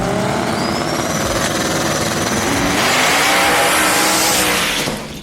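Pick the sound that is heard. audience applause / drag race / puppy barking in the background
drag race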